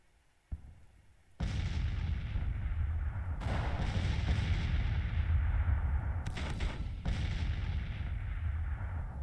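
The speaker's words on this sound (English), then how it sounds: "Counter battery fire." Counter-battery artillery fire in the Civil War strategy game Grand Tactician at Stones River, with a lone thump, then heavy booming cannon blasts rolling into a continuous thunderous rumble with fresh reports layered over it, loud and sustained.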